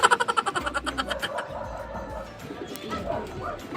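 Pigeons in a loft give a quick, rhythmic run of close cooing pulses, then softer murmuring coos and rustling continue in the background.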